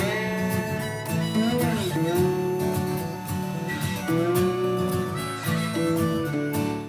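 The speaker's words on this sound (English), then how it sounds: "we have some harmonica, and eventually we add slide guitar and electric guitar as well as the song develops" Harmonica over slide guitar and electric guitar in a song's post-chorus, with drums and bass underneath; a dense, steady band mix with sustained melodic lines and a constant loud level.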